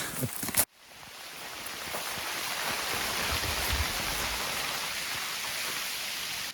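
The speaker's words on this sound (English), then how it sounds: "it's pouring rain" Heavy rain pouring on a backpacking trail in Gros Morne, a dense, steady hiss of downpour rising after a brief opening thump and continuing loud and unbroken.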